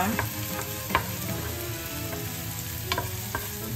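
Anchovies simmering with coconut milk and moringa leaves in a pan, a steady close sizzle broken by a few sharp stirring clicks and scrapes, with no voices.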